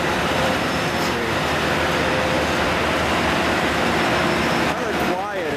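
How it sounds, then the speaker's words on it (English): A diesel train on the Mount Washington Cog Railway rolls past close by, giving a steady, dense mechanical rumble and grinding roar that holds for several seconds, then a brief squealing sweep near the end. "Here comes a train right in behind us."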